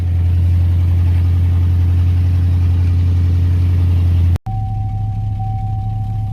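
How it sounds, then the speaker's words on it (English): Loud, raw 1980s Ford engine idling with no exhaust: a deep throbbing rumble, cut by a brief dropout, then continuing lower with a thin whine. "This thing is ridiculously loud with no exhaust."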